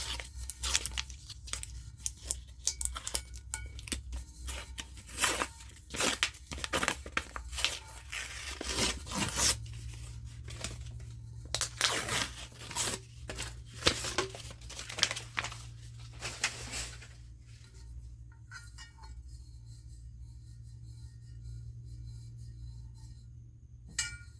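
Crinkly tearing and rustling of wrap being peeled off a cooled 30 oz tumbler, bursts of crackling plastic close by, fading to a quiet hum near the end.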